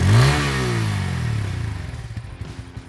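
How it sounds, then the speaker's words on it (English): A Bajaj Pulsar P150 motorcycle with an underbelly exhaust revs sharply up close, the engine note climbing and then falling away into a loping, pulsing idle. "The P150 gets an underbelly exhaust just like the N160"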